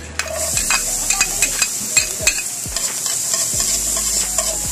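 Garlic sautéing in melted margarine in a pan over an outdoor fire for spicy chicken adobo, a constant bright sizzle broken by repeated close scrapes and clinks of a stirring utensil.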